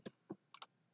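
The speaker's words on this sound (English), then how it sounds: "I'm going to hit Control Save" Keys clack faintly on a computer keyboard as a save shortcut is pressed in Notepad++. Four light, close clicks come within a second, with the last two nearly together.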